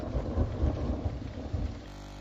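Rain falls steadily in a thunderstorm, with low rolling thunder rumbling beneath it at moderate volume. No voices are heard.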